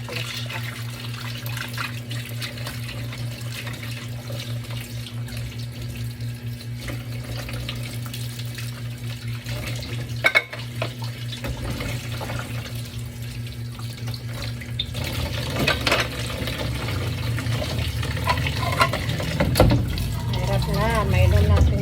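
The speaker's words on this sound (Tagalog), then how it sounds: "hugasan muna natin tong juicer na to para malinis" Tap water runs steadily into a sink while a juicer is rinsed, a soft continuous stream with a low hum beneath and splashing that grows louder near the end.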